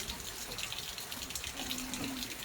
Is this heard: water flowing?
yes